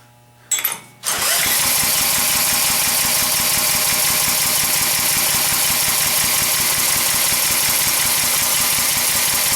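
A small tiller engine, set in neutral with the choke on, catches after a brief cranking burst and settles into a loud, steady, rapidly pulsing idle that runs on alone.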